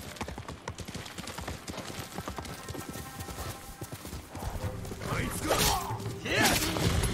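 Horse hooves clip-clop in the video game Ghost of Tsushima, a steady rapid trotting rhythm under faint game ambience, rising into louder thumps and clatter toward the end while a person speaks over it.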